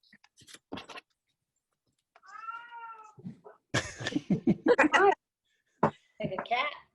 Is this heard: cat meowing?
yes